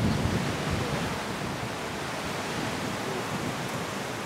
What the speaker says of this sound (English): wind is crazy right now